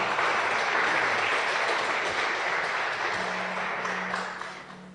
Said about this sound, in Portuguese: Será que você pode dar um aplauso a Jesus?